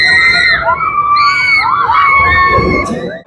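Children shout and scream loudly in a dense crowd at VDNKh park in Moscow, a continuous close wall of high voices and cheering.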